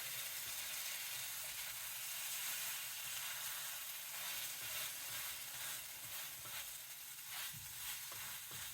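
Small pieces of egg-soaked bread for French toast fry in a hot pan, a steady broadband sizzle with faint scattered crackles and occasional light scrapes, continuous and fairly close.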